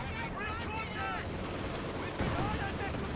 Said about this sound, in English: There is more Katyusha rocket artillery firing at me.